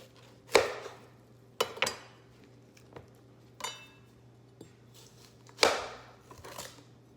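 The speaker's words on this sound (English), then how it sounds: "I always like to start with a stab with the end of the knife, and then you can spin it around" A kitchen knife stabbing and cutting through watermelon rind, giving five or six sharp, crisp crunches at uneven intervals, close and distinct over a faint steady hum.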